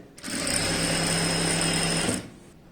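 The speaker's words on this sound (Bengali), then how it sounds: "পুরো কোমরের পাটটা আমি এইভাবে সেলাই করে নিয়েছি 2 সাইড।" A sewing machine stitches the waistband of churidar pants in one steady, close run of about two seconds, a fast even whir that stops abruptly.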